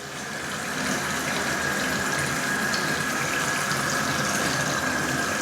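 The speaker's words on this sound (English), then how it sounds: "the water's flowing, got good pressure, and we don't have any surging" A tap on a well system with a newly replaced pressure tank runs at strong, steady pressure, water gushing continuously and loudly into a sink without surging.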